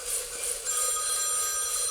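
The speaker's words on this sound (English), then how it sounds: "I've now got a phone call from the landlord talking about the leak in the roof" A telephone rings in a home coffee-roasting space, a repeating electronic bell trill at moderate level over a faint steady background hum.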